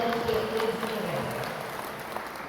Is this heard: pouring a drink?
no